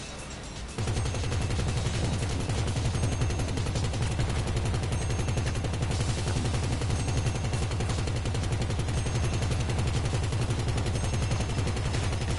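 Dense, rapid gunfire from a video game shooter starts abruptly after a brief quiet opening and continues without a break to the end, loud and sustained like automatic weapons fire, with no talk.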